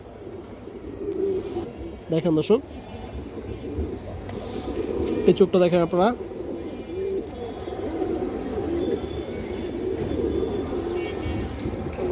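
Fancy pigeons of mixed breeds (Silver, Beji, Hurricane, Kaldom Khoiragola, Chhulli, Afsan Bagha, green-necked) coo in low, steady throaty murmurs throughout, with someone talking over them at close range.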